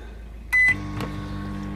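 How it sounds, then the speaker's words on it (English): A microwave oven defrosting meat aboard a narrowboat gives a short steady tonal beep, then a click and a low constant hum as it runs, fairly close. "Microwave on a narrowboat."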